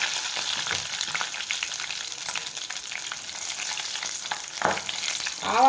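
Mustard seeds, cumin, urad dal and chana dal sizzle and crackle steadily in hot oil for a tempering, a loud close frying hiss with scattered pops and a brief stirring scrape near the end, no voices.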